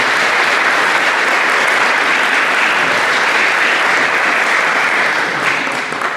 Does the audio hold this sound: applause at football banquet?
yes